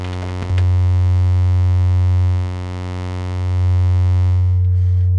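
A synthesizer oscillator holds a sawtooth wave blended with a sine wave, a loud, sustained buzzy tone with a strong round bass, briefly dipping in level before swelling back.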